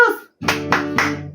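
Children's rhythmic church chant-clap, three sharp claps in steady beat over a sustained tone, following a short burst of voices at an online Sunday school service.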